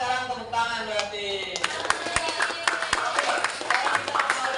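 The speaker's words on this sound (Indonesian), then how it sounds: "Tepuk 2 kali." A group of people claps hands twice, two sharp, close claps ringing out after a spoken voice at the start.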